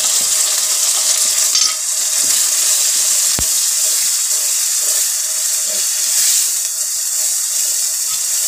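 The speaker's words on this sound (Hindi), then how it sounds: "मसाले को भूनेंगे 5 मिनट तक।" Spices with onion, turmeric, salt and ground red chili sizzle in a hot pan for Sindhi-style aloo matar, a steady close hiss broken by occasional stirring scrapes.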